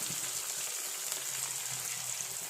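Garlic, ginger and green chillies fry together in a pan for fish pickle, producing a quiet, even hiss of sizzling oil that holds steady without breaks or speech.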